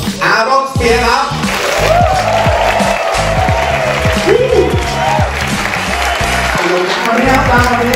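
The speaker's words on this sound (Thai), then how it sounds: "ขอเสียงปรบมือดังให้กับอาร็อกสเปียร์ครับ" A crowd applauds with sustained clapping for drummer Aaron Spears at a live event, while a loud amplified emcee voice speaks over it throughout.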